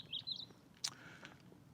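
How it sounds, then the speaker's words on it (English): Birds chirp in trees on a quiet morning beside a quiet road in the UK, giving a few faint, high, brief tweets over low background hum. "probably hear the birds in the trees"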